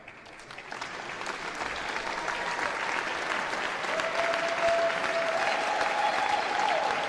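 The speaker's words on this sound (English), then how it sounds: "Big applause for Ukraine." Applause for the silver-medal Ukrainian goalball team rises from a gym crowd, starting lighter and swelling into loud, sustained clapping, with a faint steady tone running beneath in the second half.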